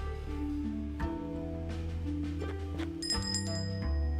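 A small bell rings in the video game Shardlight, sounding as a few bright, metallic chimes with sustained ringing tones over a low background hum.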